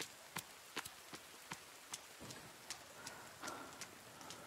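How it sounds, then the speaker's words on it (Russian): Rain falling in The Forest video game, a faint patter with sharp separate drop ticks landing at an irregular pace, quiet and alone without talking. "Дождь же идет."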